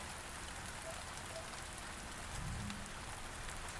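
Rain falls in the video game Space Engineers as a steady hiss of drops on surfaces, fairly quiet and even throughout, with a faint low rumble midway and no talking.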